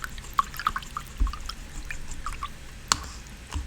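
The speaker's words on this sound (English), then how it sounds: "Rinse my brush out." A paintbrush rinsed in a water jar during painting: small drips, splashes and sloshes with a few sharper clinks against the container, quiet and close, with no talking.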